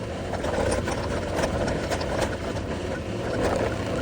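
A scooter rides over sand and stones on a rough road full of potholes, its engine droning continuously and loudly up close, with rattling and road noise throughout.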